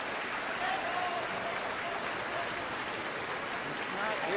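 A crowd at a curling match claps and cheers in a steady, dense wash of applause that lasts throughout, with a voice speaking over it.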